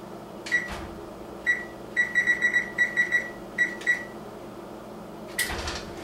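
An oven control panel beeps while preheat is set to 400 degrees: a run of short, bright electronic beeps in quick clusters over a low kitchen hum, closing with a brief clatter.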